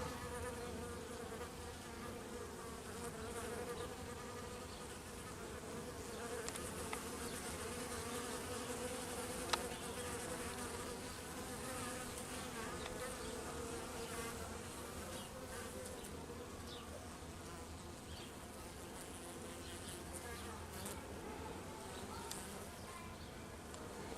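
Honeybees foraging in November and flying back into the hive loaded with pollen fill the scene with a steady, dense buzzing hum, close and continuous, with individual insects passing nearby.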